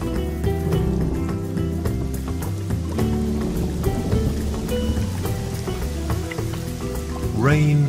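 Rain falls steadily onto a wet red-clay landscape, making a dense patter of close drops that holds even throughout, with a brief swell near the end.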